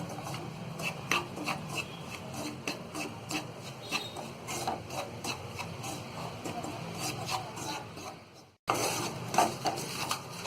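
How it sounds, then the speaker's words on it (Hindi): Semolina being dry-roasted and stirred continuously in a pan while making rava upma, heard as steady scraping and rubbing strokes of a spoon against the pan, close and fairly soft, with a brief pause near the end. "और इसमें हम ये सूजी डाल के भून लेंगे और इसे लगातार चलाते हुए हम कलर चेंज होते भूनेंगे।"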